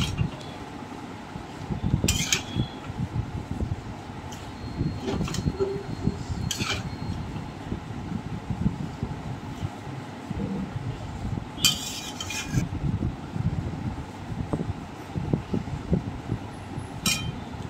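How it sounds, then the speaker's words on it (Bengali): Bottle gourd leaves (lau shak) being stirred in a pan: a spatula scrapes and rustles steadily through the greens, with a few sharp metallic clinks against the pan and a low background hum. "লাউ শাকটা দিয়ে ভালো করে মিশিয়ে নিচ্ছি।"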